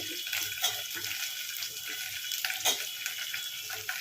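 Tomato and okra pieces fry in a pan with a steady bright sizzle and hiss, close and fairly quiet, with occasional soft stirring knocks under the crackle.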